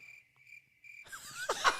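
Crickets chirp in three evenly spaced, thin tonal bursts against near silence, then give way abruptly to a busier wash of higher whistling sweeps and noise.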